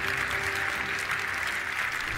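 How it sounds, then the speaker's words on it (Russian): Faint, even applause from a television studio audience rolls on without a break, a soft continuous patter of many hands heard at a distance. "аплодисменты."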